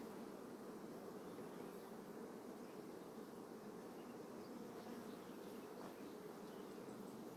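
Honey bees buzzing around a hive, a dense continuous drone of many insects close by, steady and unbroken with no voices.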